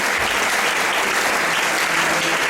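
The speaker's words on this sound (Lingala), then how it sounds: "Est-ce qu'on peut acclamer Jésus?" A church congregation applauds loudly and steadily, a dense, continuous clatter of many hands filling the room without pause.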